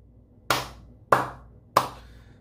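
Three slow, deliberate hand claps ring out alone, evenly spaced with brief pauses between them.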